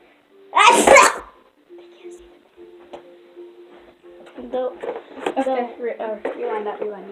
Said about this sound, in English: The powerful sneezer. The one that sneezes on their fan.